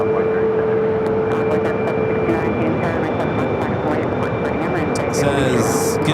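An Envoy airliner takes off from runway 7 left at Phoenix Sky Harbor Airport, a loud, steady engine roar heard close and continuous, with air traffic radio chatter over it.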